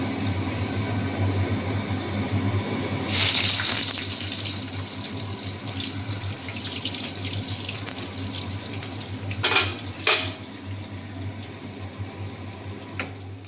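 A loud kitchen chimney exhaust hood runs steadily through the whole stretch, a constant broadband roar with a couple of brief clatters partway through and no talking.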